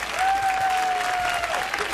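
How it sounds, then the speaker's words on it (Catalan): A studio audience applauds on a live Catalan television show, a dense, steady wash of clapping, loud and sustained throughout, with a brief tonal sound over it. "Aquest aplaudiment per ells"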